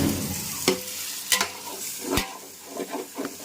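Freshly cut chicken frying in a pot for biryani, stirred with a few sharp scraping strokes over a steady, close sizzle; no voices.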